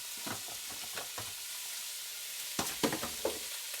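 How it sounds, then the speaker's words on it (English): Stew meat fries in a pan, giving a soft, steady sizzle with faint crackles and a few light pops. "Listen to it sizzle."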